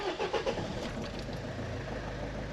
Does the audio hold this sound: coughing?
no